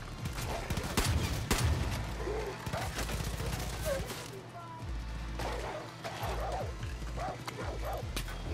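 A dog in Far Cry New Dawn barks in sharp repeated bursts amid scattered gunfire and game sounds, fairly close, with a voice speaking over the action.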